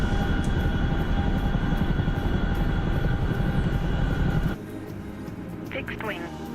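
Chinook transport helicopter in a military video game, a loud steady rotor and engine drone filling the first four and a half seconds, then dropping away abruptly to a quieter hum, with faint voice-like chatter near the end.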